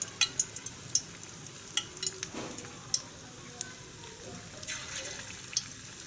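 Small balls of spiced minced meat bound with gram flour dropped one by one into hot oil, giving a steady low sizzle with sharp clicks and pops scattered throughout, fairly close and without talk.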